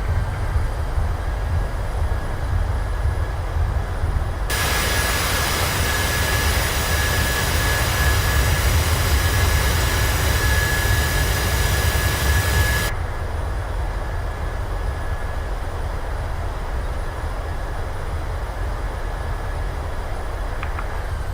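A PMDG 737-600 in Microsoft Flight Simulator rolls out after touchdown, its jet engines surging into a loud, broad reverse-thrust roar for several seconds before easing back to a steady lower rumble.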